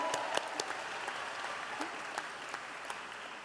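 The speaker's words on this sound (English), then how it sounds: "Let's give ourselves a round of applause for this well-earned achievement." Graduates at a health professions and nursing commencement applaud, a thinning, fairly faint patter with a few distinct sharp claps standing out.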